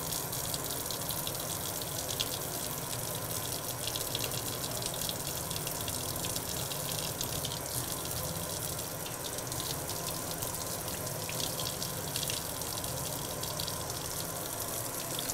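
Tap water runs steadily and continuously during a surgical hand scrub at a sink, a broad gushing wash that stays even and close for the whole stretch with no talk over it.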